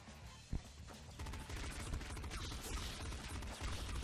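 Rapid rifle fire from a pop rifle in the top-down shooter Nuclear Throne, a dense, continuous stream of punchy shots with one sharp burst near the start, loud and close, no talk over it.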